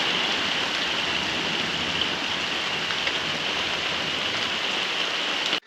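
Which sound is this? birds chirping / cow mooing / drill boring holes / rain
rain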